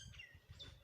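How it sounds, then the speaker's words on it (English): Birds singing outdoors on a quiet, windless-traffic lockdown day in South Africa, with two faint high chirps rising over a low rumble of wind. "There's the birds singing."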